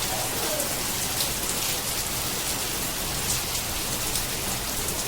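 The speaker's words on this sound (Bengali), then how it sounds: "ভালোই বৃষ্টি লেগেছে" Heavy rain pours down steadily after a hailstorm, a dense, unbroken hiss of drops striking surfaces with no voices.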